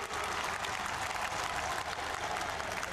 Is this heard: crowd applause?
yes